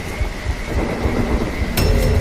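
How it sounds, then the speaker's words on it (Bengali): Cartoon thunderstorm sound effect: heavy rain hisses steadily under a low rumble, then a sharp nearby thunderclap cracks in near the end, loud and close, no talking. "কাছেই কোথাও একটা বাজ পড়ে"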